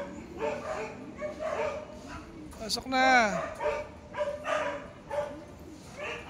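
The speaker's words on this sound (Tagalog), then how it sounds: "Ayan ingay naman ng mga aso." Several dogs bark and yip in bursts with a rising whimper in the middle, while a person speaks briefly nearby.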